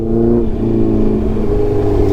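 A Yamaha 660 Ténéré motorcycle engine runs loud and close, its steady throbbing drone shifting slightly in pitch as it revs, with no voices over it.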